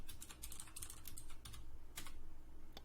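Password being typed on a computer keyboard during an Arch Linux install, a quick run of close, crisp key clicks in an uneven rhythm, with a short pause before a final burst of keystrokes.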